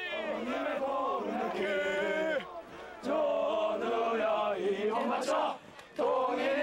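Female cadets sing a military song in unison and shout while running a 5 km training run, a strong group chorus with rhythmic phrases broken by brief pauses between lines.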